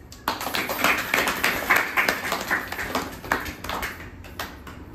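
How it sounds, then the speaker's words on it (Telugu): An audience at a meditation class claps loudly, a quick, uneven patter of many hands that starts suddenly and goes on to the end. "మరి ఈ భాగ్యవంతులందరికీ కూడా ఒకసారి గట్టిగా క్లాప్స్"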